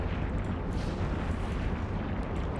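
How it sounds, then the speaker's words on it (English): Dense, continuous rumbling explosions and blasts from a large space fleet battle in the EVE Online game, loud and sustained throughout with no talk. "Lots of explosions, but it's doable."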